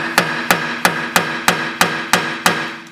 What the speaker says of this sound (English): give it a good tap to free it off